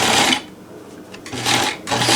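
A NELCO L 400 zig-zag sewing machine runs a blind hem stitch in two loud bursts of rapid mechanical stitching, separated by a quieter pause near the start of the second half.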